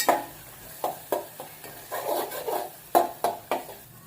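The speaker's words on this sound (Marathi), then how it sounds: "वाटलेला मसाला त्यामध्ये टाकूया मसाला आपण तेलामध्ये छान परतून घेऊया" Ground onion-garlic masala sautéing in oil for spicy Marathi-style misal, with a spoon scraping and stirring the pan in repeated soft strokes over a faint sizzle, close and fairly quiet.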